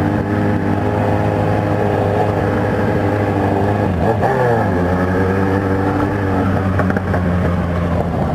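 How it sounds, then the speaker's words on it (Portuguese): A Kawasaki Z1000 motorcycle engine drones steadily and close through its exhaust, then revs briefly with a rising and falling pitch before settling back to a loud, constant hum. "Esse escapamento é louco, tio."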